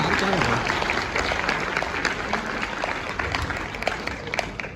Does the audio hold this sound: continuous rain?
no